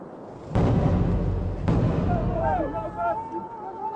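Two loud, booming mine blasts in a tunnel about a second apart, each with a sharp onset and a long rumbling decay, followed by high whistling tones and background murmur, in Gilgit-Baltistan.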